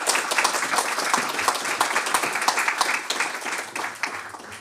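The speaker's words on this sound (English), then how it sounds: "can I please get a warm round of applause for Lara Wolters" A room of listeners at a policy discussion event breaks into warm applause, a dense, lively patter of many hands clapping at moderate volume that holds steady before easing slightly.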